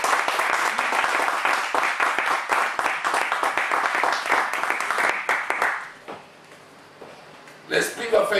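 A church congregation claps loudly and steadily in dense, overlapping applause for several seconds. The clapping then stops abruptly into near quiet before a voice starts speaking at the end.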